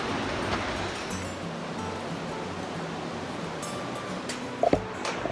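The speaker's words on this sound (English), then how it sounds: "Rapids coming down there, going that way." River rapids in a canyon below the Silver Bridge suspension footbridge, a broad constant rushing roar heard from above, steady throughout with a few faint knocks near the end.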